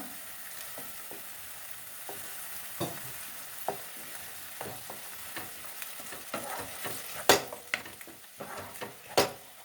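Grated carrot is stirred in ghee and milk in a pan for carrot rasmalai, with a soft steady sizzle broken by scattered scraping clinks of a spoon against the metal.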